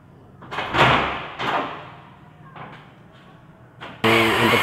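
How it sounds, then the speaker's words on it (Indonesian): Aluminium door being fitted into its frame while swapping out an old wooden door, with a few loud knocks and scraping bangs close by, then a sudden burst of harsh mechanical noise at the end. "Karena belum disilen maka pintu sedikit turun."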